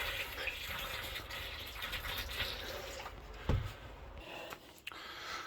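Water is forced out of a travel trailer's plumbing lines during winterizing, making a continuous rushing, gurgling flow with a brief splash before it trails off.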